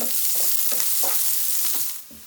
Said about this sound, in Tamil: ஆனியன் ஆட் பண்ணிவிட்டு ஆனியன் நல்லா ப்ரௌன் ஆகிற வரைக்கும் ஃப்ரை பண்ணிக்கோங்க